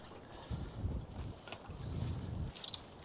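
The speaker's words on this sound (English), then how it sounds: "See how fast that wind is blowing me right into those trees." Strong wind blows outdoors over water near trees during a fishing outing, buffeting the microphone in heavy, low rumbling gusts that come in bursts with brief lulls.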